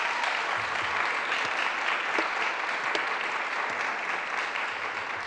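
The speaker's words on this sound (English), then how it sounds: "And yes, you can clap." An audience at a county Board of Supervisors meeting applauds for a Pride Month honor, a continuous, even wash of clapping heard alone from start to finish.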